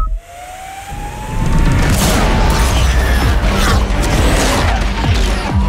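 Hyundai IONIQ 5 N high-performance electric car driving sound: a rising synthetic whine swells into a loud, sustained roaring rush with booming low rumble and layered tonal sweeps, close and powerful throughout.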